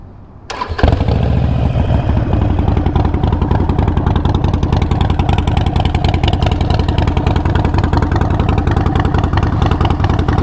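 A Harley-Davidson Sportster motorcycle engine cranks and fires up, then settles into a loud, loping idle with a rhythmic, rumbling beat that continues steadily.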